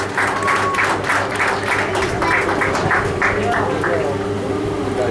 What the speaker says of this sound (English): Now let's give Alex, our lock operator, a big cheer.